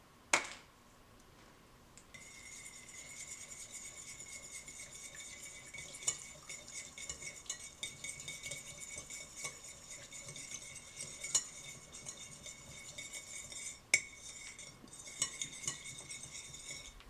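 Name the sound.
mixing salad dressing with white wine vinegar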